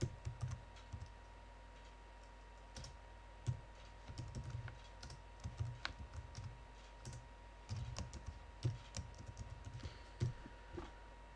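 Typing code on a computer keyboard: quiet, irregular bursts of key clicks with short pauses between runs, close by and with no talk.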